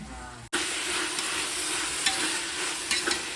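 Onions sauté in a hot pan, with mint, coriander and green chillies going in; a steady close sizzle and fry starts abruptly after a brief pause, with occasional stirring scrapes and no talk.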